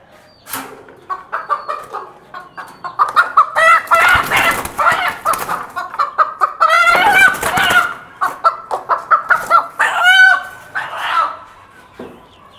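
Fancy rooftop chickens, one a cross with a local desi hen, cluck loudly and close in quick repeated bursts, with a few longer crowing-like calls rising among them.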